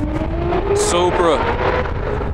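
A Toyota Supra race car passes at a race event, with a short rising and falling engine whine and a brief high hiss midway, set against crowd noise and nearby voices.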